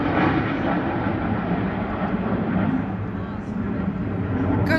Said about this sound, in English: This is the flyover.